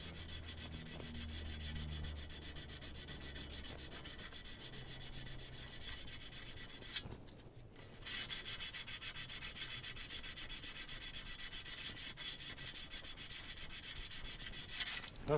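Hand sanding of dried spot putty on a Torino shift plate, a steady rasping scrub that pauses briefly midway and then resumes at the same even pace.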